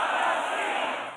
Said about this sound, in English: But before a raucous crowd